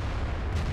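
A heavy tank cannon in World of Tanks lets out a deep booming blast with a rumbling tail, loud and close, lasting under a second.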